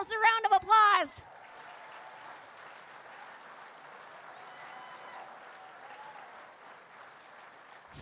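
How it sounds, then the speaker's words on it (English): Guests at a gala fundraiser applaud, a soft, steady patter of clapping that lingers after a short burst of a voice at the start. "Give yourselves a round of applause."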